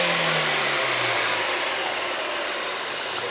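A Chevrolet Corsa engine runs steadily up close in a repair shop with a noisy camshaft, a loud, continuous mechanical drone with a slight falling pitch early on and no voices.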